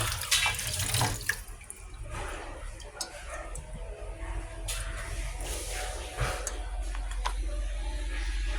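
Tap water runs steadily into a sink while fish is washed, a continuous close splashing stream with occasional clatters and a speaking voice in places.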